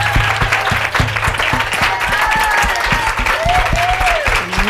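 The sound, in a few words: audience applause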